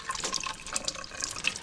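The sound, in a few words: water running from a tap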